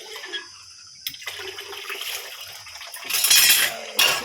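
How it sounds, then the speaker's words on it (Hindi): Cold water poured into a thermos in a village kitchen, a splashing, gurgling stream that builds and grows loudest near the end, with no talking. "अब मैं यहाँ पे ठंडा पानी इस थर्मस में भर लेती हूँ"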